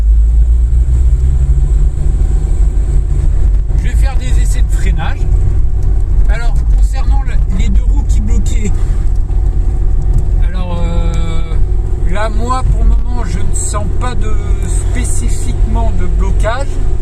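Citroën ZX car driving during brake tests, with a steady loud engine and road rumble throughout and a person talking over it intermittently.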